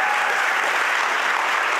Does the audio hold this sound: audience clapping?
yes